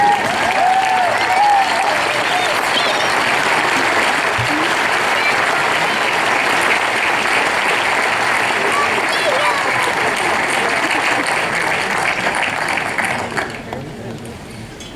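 A graduation audience at Occidental College's 2015 commencement gives sustained, dense applause for faculty and staff, with steady clapping that fades in the last seconds.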